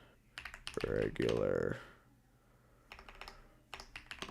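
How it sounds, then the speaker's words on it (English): Rapid clusters of clicky keystrokes on a new computer keyboard, close and fairly loud, come in bursts around a spoken word from a man. "still trying to figure out typing"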